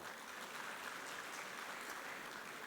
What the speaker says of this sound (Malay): kita bagi tepukan kepada mereka semua